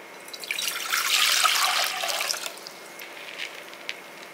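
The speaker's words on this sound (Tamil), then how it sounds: "இப்போ தண்ணி ஊற்றிக்கலாம்." Water pours into a cooking pan in one steady splashing stream that swells for about two seconds, then tapers off into a few scattered drips.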